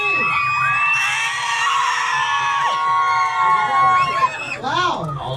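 Children aboard the Polar Express train shriek the highest notes they can, a loud crowd of overlapping, wavering high-pitched screams and whoops sustained for several seconds, with an adult voice briefly heard.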